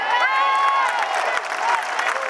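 A crowd applauds and cheers at an outdoor rally in support of Israel on Place du Trocadéro, sustained clapping and voices forming a dense, steady wash throughout.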